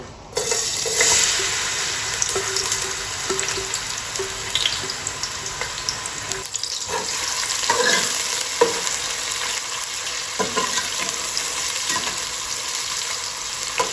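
Onions dropped into a cup of hot oil in a pot crackle and sizzle steadily for a long stretch. Occasional stirring scrapes and splashy bursts rise over the constant frying noise.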